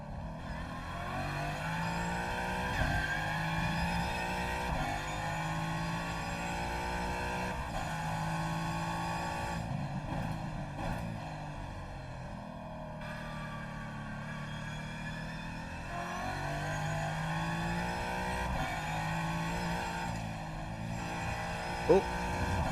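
Race car engine running a lap, a sustained mid-distance engine whine with rising and falling pitch as it accelerates and shifts through corners, with commentary voices over it.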